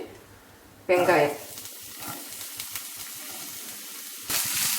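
Chopped onions dropped into hot oil in a pan for bread upma, a sudden loud sizzle that eases into a steady crackling hiss with small pops, then swells again near the end.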